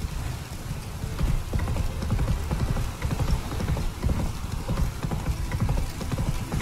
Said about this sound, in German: Galoppier weiter.